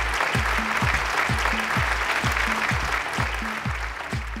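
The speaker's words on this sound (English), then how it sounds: "Let's welcome him with a big round of applause." Full, dense audience applause welcoming the Minister of Railways at an SME awards event, sustained and even throughout with a steady low rhythmic thumping running beneath the clapping.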